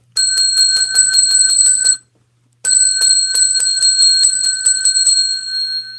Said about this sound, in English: Okay, I got to ring the bell.